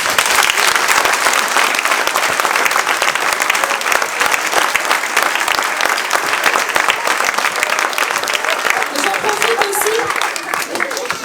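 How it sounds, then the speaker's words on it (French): An audience at a 2022 school show applauds loudly and continuously, dense clapping from a large crowd that holds steady throughout, with a few voices faintly underneath. "je pense que vous pouvez les applaudir bien fort"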